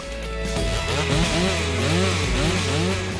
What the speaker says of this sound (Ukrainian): Бензопила приводиться у дію оновленим двотактним двигуном з технологією 2MIX